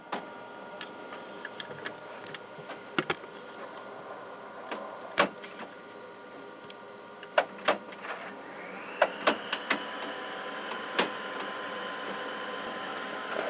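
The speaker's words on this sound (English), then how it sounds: "It's going to take a while because it's got to do its cleaning and all of that." An inkjet photo printer working through its head cleaning cycle gives a steady mechanical hum, scattered ticks and clicks, and a rising motor whine near the end, all fairly faint and with no talking.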